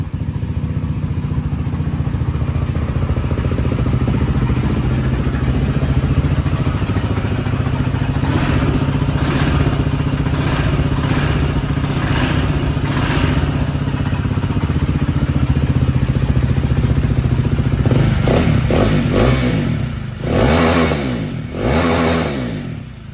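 A motorcycle engine idles steadily and close after starting, a low even rumble, then later a series of sharp revs rising and falling in quick bursts before settling again.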